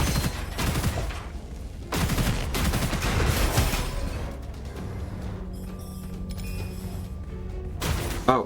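Gunfire in the video game Gunfire Reborn: dense, sustained volleys of loud, close shots with mechanical clatter, easing to a quieter stretch before a final sharp burst.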